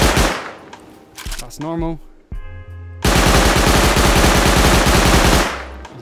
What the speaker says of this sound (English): the muzzle boost, which I've equipped on the custom SMG here, it basically increases the fire rate